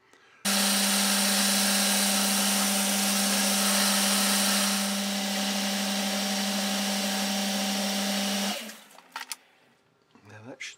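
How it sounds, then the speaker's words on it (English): A metal lathe turning a small diameter down starts abruptly and runs as a steady, loud motor whine with a strong low hum, then stops and spins down, leaving a few faint handling clicks. "I changed my lathe tool so I can get in closer to the edge, and I'm going to turn the diameter down to"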